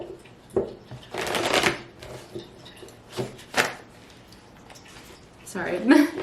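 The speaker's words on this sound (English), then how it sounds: "Sorry, not the best shuffling." Tarot cards are shuffled by hand in a few separate riffling bursts, each a quick papery flutter with short gaps between, as a voice speaks between the shuffles.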